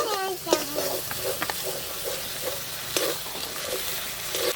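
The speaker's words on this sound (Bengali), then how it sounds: "বন্ধুরা মশলাগুলোকে খুব সুন্দর করে এভাবে কষিয়ে নিচ্ছি।" Spices sizzle and fry in oil for a village-style aair fish curry, a bright continuous hiss broken by repeated scraping strokes of a spoon against the pan.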